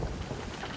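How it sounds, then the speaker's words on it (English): Steady storm ambience from the video game Sea of Thieves, with a broad wash of rain and wind noise, continuous and even, with no voices. "what with it all being a storm and such like."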